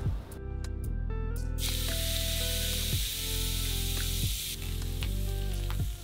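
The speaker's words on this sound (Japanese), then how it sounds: "ちょうどいいぐらいの間ぐらいの油の量で 強火ですぐ焼き切ることをお勧めします" Eggplant fries in oil over high heat, a loud, steady sizzle that carries through, with rising hiss bursts and a few clinks and scrapes as the pieces are moved.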